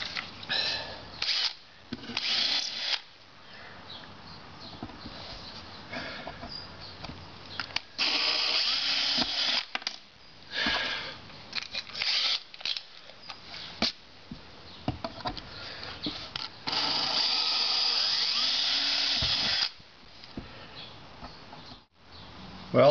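A handheld power drill bores pilot holes into a wooden game board in repeated bursts, each whining run lasting a few seconds and separated by brief pauses, close and fairly loud.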